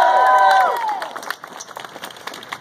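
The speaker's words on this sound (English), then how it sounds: "give another round of applause" Rally crowd at a political event applauding and cheering, with a sustained loud burst of clapping and a few whistles that fades into scattered claps and murmuring.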